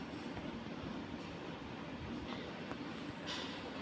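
Train in an Indian bike video game, a steady broadband rumble with low mechanical drone running throughout, fairly loud and continuous with no voices over it.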